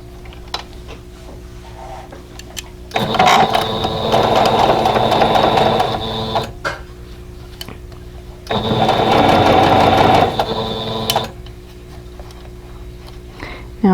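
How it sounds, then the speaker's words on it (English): Sewing machine stitching quilt block pieces together for a vintage quilt block, in two steady whirring bursts of a few seconds each with a quiet pause between them, close and loud. "line everything up, and sew these now"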